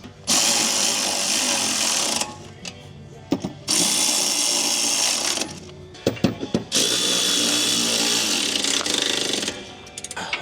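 Impact wrench fitted with a 13 mm socket tightens bolts on a Can-Am rear bumper in long loud hammering bursts broken by short pauses, heard close up.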